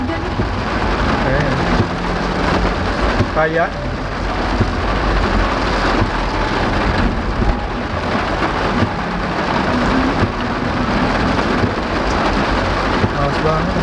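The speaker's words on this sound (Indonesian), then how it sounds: "Ini semuanya nih hujan." Heavy rain pounds on a car while people sit inside, a dense, steady hiss and patter that continues throughout, with voices talking over it now and then.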